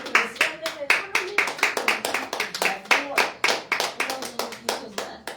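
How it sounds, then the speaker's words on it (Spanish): Church congregation giving rhythmic clapping applause during a sermon, many hands striking in a steady, quick, even beat, loud and close, with continuous claps throughout. "Un aplauso al Señor."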